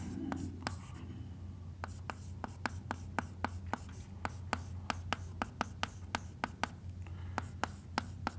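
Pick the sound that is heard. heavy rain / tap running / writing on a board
writing on a board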